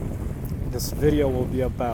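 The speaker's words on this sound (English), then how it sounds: "It's pretty windy over here." Outdoor wind buffets the microphone in a steady low rush, with a person talking over it.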